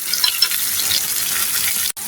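Pointed gourd slices fry in a pan over medium-low heat, giving a constant close crackling sizzle with a brief dropout just before the end.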